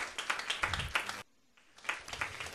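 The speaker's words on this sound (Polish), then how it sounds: "proszę o brawa" Applause from a small audience at a debate on the painter Nowosielski, a thin scatter of individual claps that drops out briefly, then resumes quietly.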